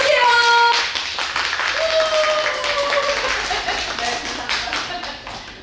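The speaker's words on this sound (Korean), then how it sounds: "큰 박수로 맞아주시죠." A book-concert lecture audience claps loudly and steadily to welcome Professor Park Hye-young of Inha University's English department. The applause is close and dense and lasts throughout, with a host's voice partly over it.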